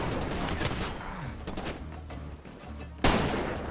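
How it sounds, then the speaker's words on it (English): An explosion in the video game Far Cry 2 lands as a sudden sharp blast near the end, following a stretch of crackling gunfire-like bursts and rumbling background noise. "oh, that was an explosion. I heard that explosion and I thought it was my game lagging."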